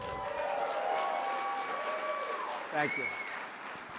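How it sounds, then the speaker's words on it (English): An audience at an Economic Club of Chicago forum gives a standing ovation, steady applause filling the room throughout while someone briefly speaks over it. "Standing ovation."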